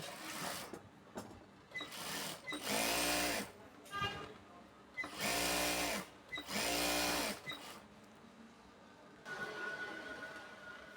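A sewing machine back stitches while palazzo pants are sewn, whirring in short repeated bursts separated by brief stops. A voice speaks softly around the stitching.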